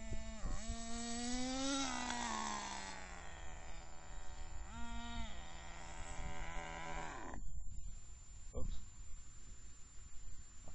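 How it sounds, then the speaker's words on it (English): A Redcat Sonic 1/10 scale nitro RC car engine with a supercharger and big front air filter whines up and down through its gears, loud and close, with rising pitch sweeps that cut off abruptly near the end. "You can hear it changing gears properly now."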